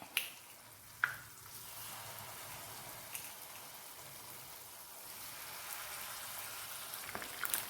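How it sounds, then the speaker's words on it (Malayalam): Batter-dipped paneer pieces fry in hot oil with a steady, soft sizzle and a few sharp pops and crackles, fairly quiet and continuous with no talking. "കുറേശ്ശെ നമുക്ക് ഫ്രൈ ചെയ്തെടുക്കാം."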